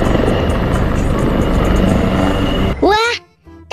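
A helicopter's steady, loud rotor and engine roar fills most of the moment at a children's clown show, then cuts off abruptly as a voice speaks.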